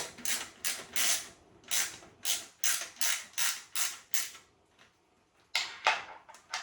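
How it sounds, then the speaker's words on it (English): A hand ratchet works the rear wheel bolts of a bike, giving rapid clicking bursts in a regular back-and-forth rhythm, close and crisp, with a short pause before a final burst. "you're going to get a ratchet and take off the bolts on your back wheel"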